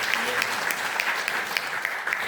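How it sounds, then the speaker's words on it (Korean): An audience at a special lecture on nutrition gives steady, continuous applause that fills the room at moderate volume, with scattered sharper claps standing out. "다시 한번 큰 박수 부탁드리겠습니다."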